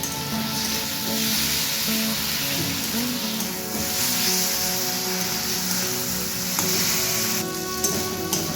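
Ginger, cumin, dried chilli and garlic paste frying in a pan with softened onion and tomato, giving a steady, fairly loud sizzle with light stirring throughout and no voices.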